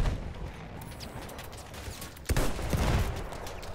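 Battlefield 1 gunfire crackles in a busy firefight, with scattered shots and bursts, then a sharp louder report marks a heavier, denser stretch of fire near the end, with no voices.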